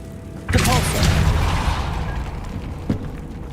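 A Depulso force spell cast in Hogwarts Legacy bursts out as one loud whooshing blast with a rumbling tail that fades over a few seconds, and a smaller thump follows near the end.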